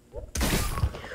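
An egg launcher weapon in a video game fires and hits with a sudden loud, crunching burst that lingers briefly as a rough, shattering thud.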